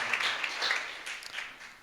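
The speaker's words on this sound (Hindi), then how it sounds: "प्रभु के लिए जोरदार ताली बजाएं" A congregation at a Rehoboth Fellowship church service breaks into brisk applause, a steady wash of many hands clapping together at moderate volume with no one speaking over it.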